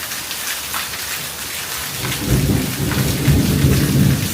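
Thunder rumbles under heavy rain during a monsoon storm with dark clouds overhead, a steady downpour hissing throughout while low, rolling thunder swells louder in the second half, with no talk.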